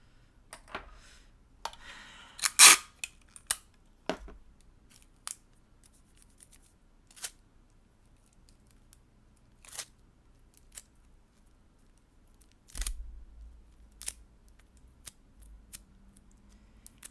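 Scissors snip out small paper pieces for a miniature cotton candy shop, with sharp, close cuts coming irregularly, some in quick clusters and others alone, against near silence.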